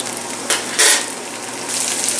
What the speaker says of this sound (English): Mainly I just want to quickly sear the tofu and sort of melt down the vegetables a little bit.